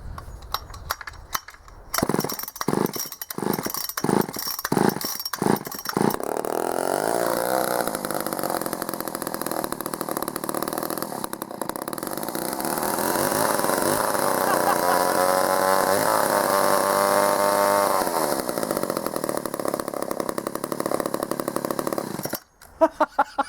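A vintage Poulan 306A chainsaw, salvaged from a dump, gets a few quick pull-starts, then catches and runs loudly for a long stretch with a steady buzzing drone and a few revs before cutting off abruptly.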